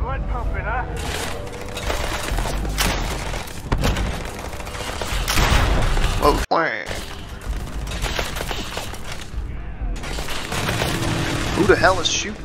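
Gunfire in a Starfield firefight, with dense rapid bursts and sharp cracks repeating loudly across the whole stretch, interrupted by one abrupt cut partway through; a voice speaks faintly under the shooting.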